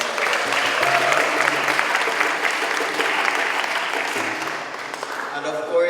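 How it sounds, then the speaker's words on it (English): An audience at a poetry event gives a sustained round of applause. The clapping is dense and steady, then eases slightly toward the end. "Just a round of applause."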